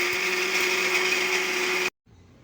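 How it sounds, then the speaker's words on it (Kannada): Mixer grinder blending chutney with roasted chana dal, a loud steady motor whine with a faint rattle of the jar, running constantly for almost two seconds before stopping abruptly, followed by quiet room noise. "ಇವಾಗ ಇದನ್ನೆಲ್ಲ ಮಿಕ್ಸಿಗೆ ಹಾಕಿದ್ದೀನಿ."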